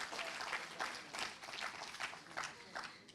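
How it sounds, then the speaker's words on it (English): Scattered audience clapping at a film festival inaugural ceremony swells and fades in uneven bursts, moderately loud, with no voices over it. "Let's have a round of applause for Jagran Film Festival"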